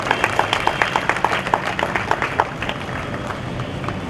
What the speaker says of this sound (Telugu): గట్టిగా చప్పట్లు కొడి దేవునికి ధన్యవాదాలను